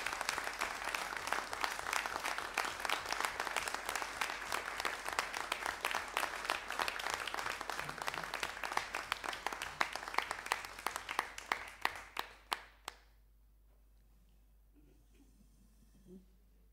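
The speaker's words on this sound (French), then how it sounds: "Je crois que vous pouvez applaudir Jean-Pierre." Applause at a municipal council meeting, steady sustained clapping from a room of people that continues for about twelve seconds, then breaks into a few scattered last claps and falls silent.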